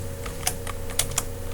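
Light typing on a computer keyboard, a handful of quick scattered key taps over a low steady hum, fairly faint and close, no voices.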